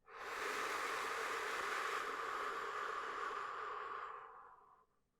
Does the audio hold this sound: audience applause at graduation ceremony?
no